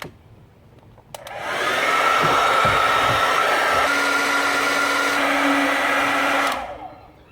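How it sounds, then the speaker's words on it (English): A hair dryer switches on with a click and blows steadily at close range for several seconds, a loud whooshing whine with a low motor hum, then cuts off. "So I'm gonna borrow the local Con Air hair dryer."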